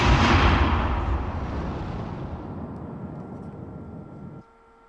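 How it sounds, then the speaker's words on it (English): A huge explosion in the Tekken 6 fighting game: a loud, roaring broadband blast that slowly fades over about four seconds before cutting off abruptly, with no talk. "What an explosion."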